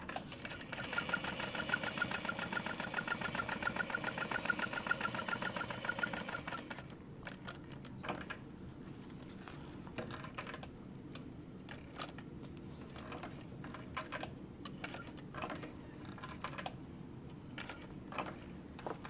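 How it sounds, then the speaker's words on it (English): A sewing machine runs slowly while stitching around a curve on a Scottie convertible bag, a steady mechanical whir at first that thins into quieter, intermittent ticking stitches, close and alone. "just go really slow, stitching around the curve"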